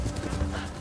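Horse hooves clop steadily at a riding pace in Ghost of Tsushima, a close, continuous rhythmic patter blended with game ambience, no talking heard.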